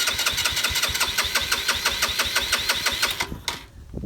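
Cafe racer motorcycle engine cranking in a rapid, steady stream of clattering mechanical pulses, close and fairly loud, then stalling and falling quiet without catching.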